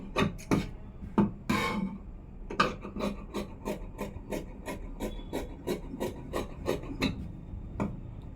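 Scissors cutting through blouse fabric on a table, a quick run of crisp, regular snips, about one per third of a second, close and clear with no talk.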